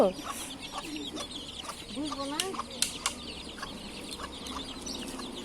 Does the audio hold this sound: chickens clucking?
yes